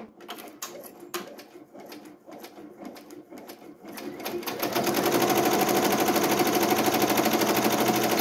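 An embroidery machine stitches the edging of a layered vinyl appliqué, starting with sparse, uneven needle taps and building into a steady, loud, fast mechanical rattle that carries on alone.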